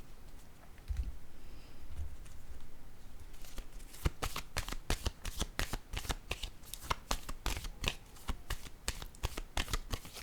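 Tarot cards are handled softly, then riffled and shuffled in a rapid run of crisp, papery flutters and snaps, close and fairly loud, with no talking.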